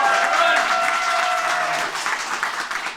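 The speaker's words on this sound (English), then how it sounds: "ask you to give Rowan an extra round of applause" A graduation ceremony audience applauds for a cum laude BCom graduate, steady dense clapping filling the hall for the full stretch, loud at first and easing slightly toward the end.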